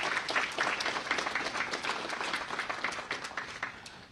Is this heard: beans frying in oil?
no